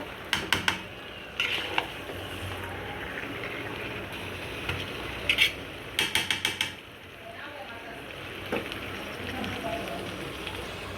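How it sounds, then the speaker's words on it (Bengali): Spice paste is stirred with duck meat in a pot, with repeated clattering scrapes of a utensil against the metal in short bursts over a soft sizzling background. "মশলাটা মাংসের সাথে সুন্দর করে নাড়াচাড়া করে খাবো"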